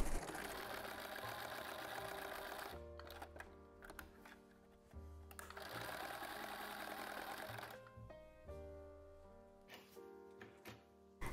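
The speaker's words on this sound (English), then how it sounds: "To sew the straps to the lock, I'm going to just put it inside and sew it with a rectangle and a cross" Sewing machine stitching a strap onto a burrito-style lunch bag, two long runs of rapid, steady mechanical whirring with a quiet pause and light clicks between them, close and clear.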